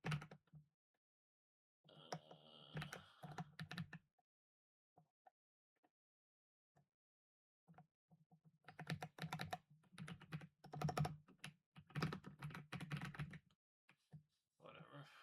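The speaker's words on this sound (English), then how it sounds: "typing on my normal keyboard now" Typing on an ordinary computer keyboard, close rapid bursts of key clicks separated by pauses, with quiet talk mixed in at times.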